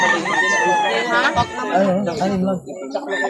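Rooster crowing at a chicken breeder's farm in Calauan, Laguna, loud and close, with clucking fowl around it; people talk over the birds throughout.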